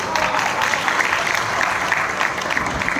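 Audience applause at a performance by special kids, a mother and daughter act, dense sustained clapping from a crowd filling the room for the whole stretch, fairly loud and continuous.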